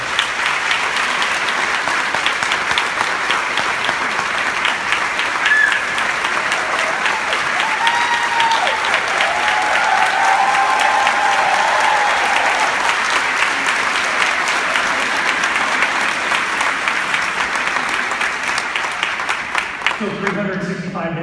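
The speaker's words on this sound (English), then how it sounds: "Let's bring them out here for another round of applause" Sustained applause from an audience at a first-year teachers' event for Aldine ISD, steady and dense throughout before tapering near the end.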